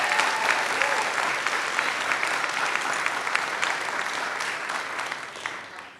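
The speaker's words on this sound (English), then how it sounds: "Give them a round of applause." Applause at a city council meeting for coaches and players, a sustained roomful of clapping that stays even and fairly loud for several seconds before tapering slightly.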